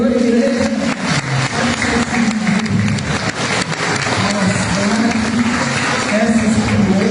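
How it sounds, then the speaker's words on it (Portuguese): Church congregation applauding during a family service, steady clapping from many hands with murmuring voices and music underneath, sustained at a moderate level. "Aplauda o Senhor, igreja."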